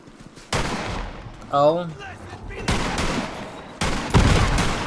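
Video game gunfire in Borderlands 3 in a swamp area: several loud, sharp bursts of shots in separate volleys, close and punchy, with a player's brief exclamation and other voice sounds between them.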